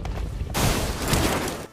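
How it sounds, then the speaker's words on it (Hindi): Gunfire in a shooting video game: a quiet murmur of background noise suddenly gives way to a dense, loud burst of rapid shots that continues for over a second before cutting off. "अब सड़क के उस पार से गोली चली थी,"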